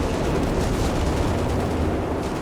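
Artillery fire in Company of Heroes 3 rumbles in a dense, continuous barrage of booms and crackling blasts, loud and unbroken for the whole stretch with no talking.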